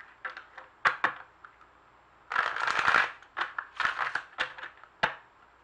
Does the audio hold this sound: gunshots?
no